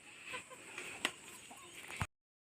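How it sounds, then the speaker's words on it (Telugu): Chickens cluck faintly at a tribal homestead in the forest near Araku, a few scattered clucks and sharp calls over quiet background before the sound cuts off. "కోళ్ళు చాలా ఎక్కువగా ఉన్నాయన్నమాట"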